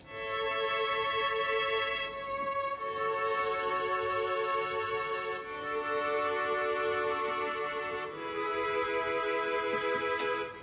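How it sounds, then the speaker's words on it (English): Two stacked violins playing together in a music production, long bowed notes held and shifting in smooth steps, full and steady in level, alone without talk. "I added 2 violins together, and the violins sound like this"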